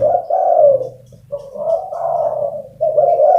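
Repeated low, throaty turtle dove coos in close, steady phrases, each a soft rolling call with brief pauses between.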